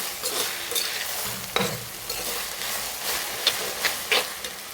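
Okra and onion sautéing in a pan, a soft steady sizzle and hiss broken by scraping stirring strokes, close by and fairly quiet, with no talking.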